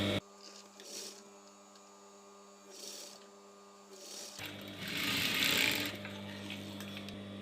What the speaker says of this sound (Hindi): दूसरा वाला शोल्डर सेम उसी टाइप से सिलाई कर लें